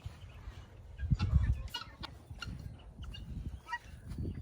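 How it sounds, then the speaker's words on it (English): Guinea fowl cluck and chatter in bursts nearby, with scattered sharp calls over a low, noisy outdoor background. "Some of our guineas."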